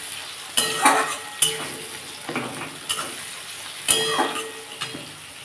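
Onion and tomato frying in a pan with ginger-garlic paste added crackle and sizzle, broken by several sharp spatula scrapes and knocks against the pan in an uneven stirring rhythm.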